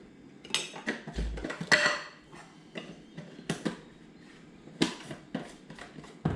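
Flour is added to beer batter and mixed, with repeated clinks and scrapes of a utensil against a bowl coming in irregular bursts, fairly close and moderately loud, with no talking.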